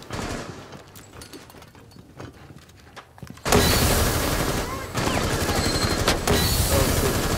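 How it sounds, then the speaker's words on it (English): Gunfire and a grenade explosion in a melee-only video game match: quieter scattered shots at first, then an abrupt loud burst of dense gunfire and blast noise that continues steadily to the end. "I think he got exploded by that grenade"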